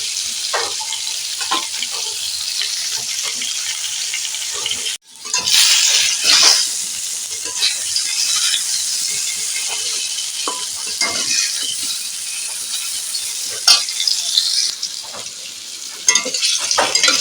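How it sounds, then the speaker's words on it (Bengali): Potatoes frying in oil are turned and stirred until browned, making a loud continuous sizzle broken by scraping stirs and light clinks of a utensil against the pan, with no voices. "আলুটা আমি এইভাবে নাড়াচাড়া করে পুরো লাল করে নেব"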